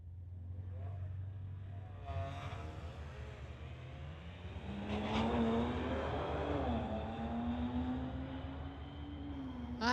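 Street-legal drag race between a VW Alltrack and a 2008 BMW 335i: engines idle, then rev and accelerate hard with rising pitch, a distant launch roar that swells and sustains as the cars pull away.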